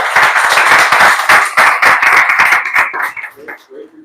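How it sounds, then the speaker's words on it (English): Audience members at a startup pitch event clap after a presentation, a lively run of distinct claps that thins out and fades toward the end as a voice begins. "I would like to give a round of applause to that hero after presentation"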